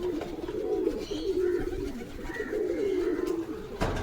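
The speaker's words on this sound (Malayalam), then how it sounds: "പ്രാവ് ഇറങ്ങിയിട്ടുണ്ട്." Pigeons cooing at a loft: a string of low, rolling coos repeats close by and fairly clearly, with a sharp knock near the end.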